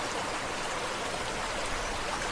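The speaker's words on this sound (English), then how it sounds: "while the water below flows stronger than ever." Water flowing beneath a collapsed wooden bridge after rain, a continuous dense rushing wash that stays steady and fairly loud the whole time.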